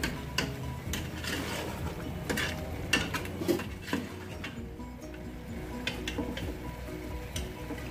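Kaleji (liver) masala frying in a pan, with a steady sizzle and scattered clinks and scrapes from stirring, close and fairly even throughout.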